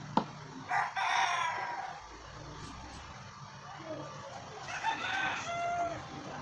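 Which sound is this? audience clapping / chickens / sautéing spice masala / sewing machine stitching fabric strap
chickens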